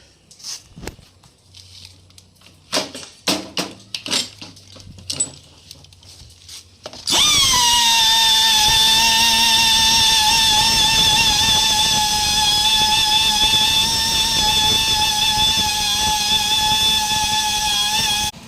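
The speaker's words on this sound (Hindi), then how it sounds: "इस जगह पर पंचर है, इसको हम पहले घिसाई कर लेते हैं डाई ग्राइंडर से।" A die grinder buffs the inside of a Scorpio SUV tyre around a puncture. A few scattered taps and knocks come first, then a loud, steady high-pitched whine runs without a break for the rest of the clip.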